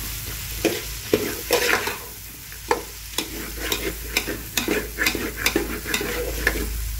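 A spoon scrapes and stirs vegetable pulao masala with peas in a pan, giving repeated close, sharp scraping strokes in an irregular rhythm over a faint steady sizzle, with no voices.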